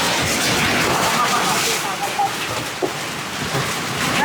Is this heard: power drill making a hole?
no